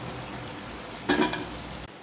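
Bajji fritters frying in hot oil, a steady close sizzle with a brief louder burst of bubbling midway, then cutting off near the end; no voices.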